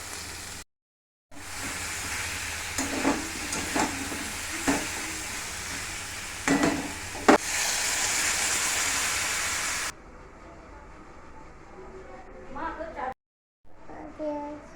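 Food sizzles steadily in a pan with a little oil, a dense frying hiss broken by occasional stirring scrapes, then dropping away as a child and an adult talk quietly in the background.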